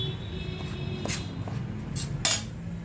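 Scraping and clinking of a spoon stirring a roasted ladoo mixture with roasted olives in a pan, a few soft metallic taps and scrapes over a steady low background hum.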